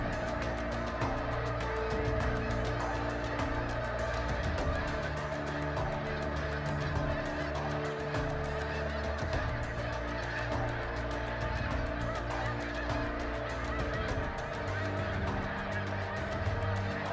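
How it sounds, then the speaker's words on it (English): A large flock of thousands of geese honks continuously in Saskatchewan, a dense, layered chorus of overlapping calls at an even, moderate level throughout. "Thousands of birds are in this group, and they are about to be in range."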